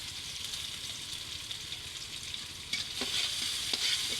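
Vegetables sizzle and fry steadily in a pan while being stirred for a pasta dish, a continuous close crackle with a few sharper scraping taps near the end.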